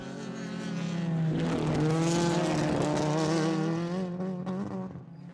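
Race cars at Dracon Circuit roar past during a race, engine notes rising and swelling loud as they approach and overtake, then fading away, with no voices.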